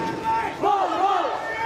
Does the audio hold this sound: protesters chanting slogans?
yes